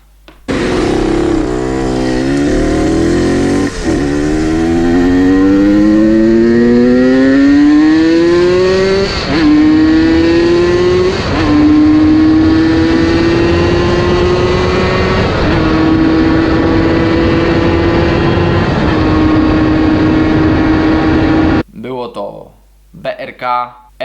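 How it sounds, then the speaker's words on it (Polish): A Yamaha DT 80 motorcycle's Polini exhaust revs up and holds a high rising drone, with a few sharp throttle blips, loud and close, before cutting off abruptly. "Wydech, czyli to, co brzmiało pięknie."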